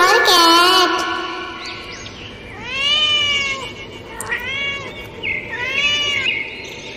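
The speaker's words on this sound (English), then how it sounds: "C for cat." A cat meows in a children's phonics song, giving several clear, loud, drawn-out meows one after another, with the first overlapping the end of a sung phrase.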